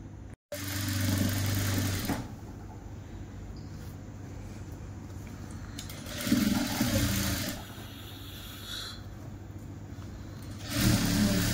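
A sewing machine stitches elastic onto palazzo pants in three short runs separated by quieter pauses, near and moderately soft, with no voices.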